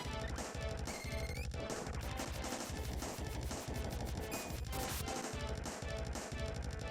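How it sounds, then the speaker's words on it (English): Fire Bouquet spell cast in the Secret of Mana video game: a dense, loud burst of crackling, popping impacts over a continuous game music bed, with repeated percussive hits and bright sparkling flourishes throughout. "I'm gonna test out Fire Bouquet."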